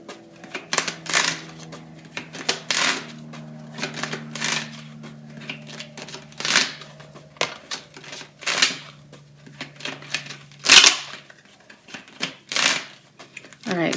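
Tarot cards are shuffled in repeated crisp riffling bursts, one after another, over a low steady tone in the background.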